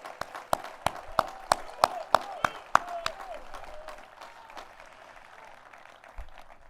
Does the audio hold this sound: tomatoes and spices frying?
no